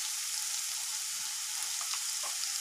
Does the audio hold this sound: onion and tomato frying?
yes